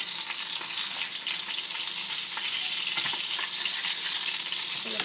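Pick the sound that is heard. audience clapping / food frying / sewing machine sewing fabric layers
food frying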